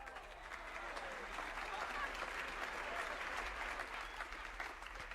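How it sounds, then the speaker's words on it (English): Audience applause for a performer at a live show, a dense, sustained wash of many hands clapping at an even level throughout. "Let's give a big round of applause to Bobby Barrett Jr."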